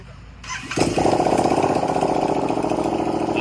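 A Royal Enfield Interceptor motorcycle engine with the silencer removed bursts into a loud, rough, unmuffled roar after a brief quieter start, then holds a harsh, steady rattling drone close by.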